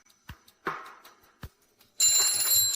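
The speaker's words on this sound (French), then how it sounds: "Jette enfin ce foutu réveil." Alarm clock ringing with a sustained, bright electronic-bell tone after a few short knocks and rustles, loud and close in a quiet bedroom.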